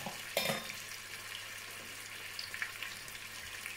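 Chicken karahi with ginger and green chili paste stirred in a hot pan, a steady close sizzle with a sharp clatter of the spoon near the start and light scraping throughout.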